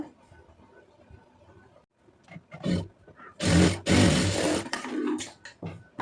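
A sewing machine stitches a plain blouse in short, loud whirring bursts separated by pauses and softer handling noises, heard up close.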